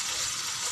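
Tomatoes frying in a pan as a sambal terong is cooked, giving a steady, close broadband sizzle with no talk over it.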